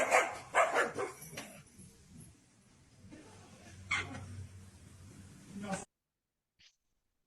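A bigger dog at an animal facility barks in a played-back recording, with a cluster of sharp, loud barks at the start and more scattered barks later, mixed with a person talking, before the sound cuts to near silence.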